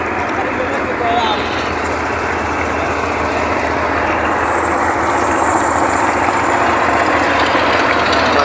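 A loud, steady engine drone runs throughout, with broadband rumble and a faint high whine, from a motorboat crossing a river from a ghat.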